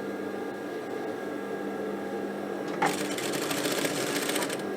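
A sewing machine closes the leg seams of a pair of trousers, running steadily at a low hum before speeding into a bright, brisk whir for the last couple of seconds, close and alone.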